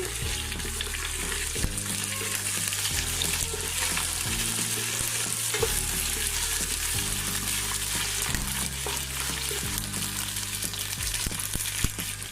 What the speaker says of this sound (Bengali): এগুলো আমি এখন দিয়ে দিচ্ছি, দিয়ে আমি একটু নেড়ে চেড়ে দিচ্ছি